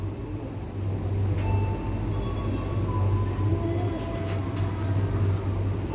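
A KA Tawang Jaya economy-class train pulls away from Cikarang station, its steady low rumble and rolling noise continuous throughout, with faint squeaks and clicks above.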